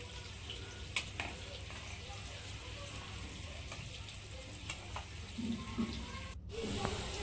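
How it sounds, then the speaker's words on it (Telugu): Paneer cubes fry in oil in a pan with a soft, steady sizzle and occasional light scraping and stirring clicks, fairly quiet and close. "కొద్దిగా ఫ్రై అయిన తర్వాత వీటిని ఇంకొక వైపు ఫ్రై చేయాలి."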